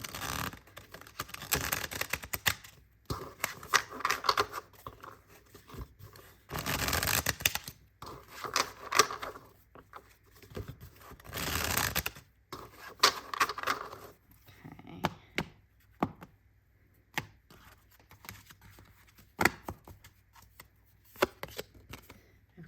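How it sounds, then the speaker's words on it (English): A deck of tarot cards is shuffled by hand in bursts of crisp riffling and flapping, with several louder shuffles separated by quieter handling and pauses. "Let's see if I can shuffle."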